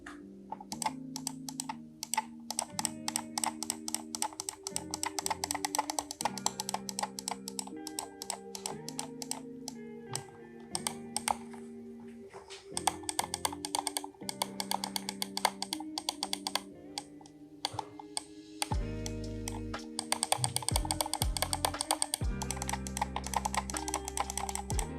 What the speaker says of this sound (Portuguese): Os cliques aqui são mais secos, são mais ríspidos, mas ainda assim são cliques agradáveis